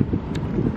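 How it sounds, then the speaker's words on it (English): Outdoor wind buffets a microphone in St. Petersburg, Florida, as a loud, steady low rumble with no pause. "It's a little windy today, so I don't know how much I will be able to talk and vlog at the same time."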